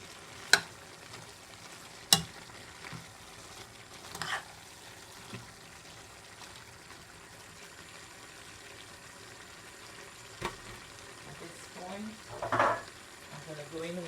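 Cabbage and chicken stirred in a pot, Guyanese style, a low sizzle broken by a few sharp knocks of the spoon against the pot and a brief wetter scraping burst near the end.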